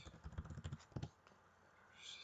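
Soft, quick keyboard clatter of a few keystrokes close by, then quiet with faint background hiss.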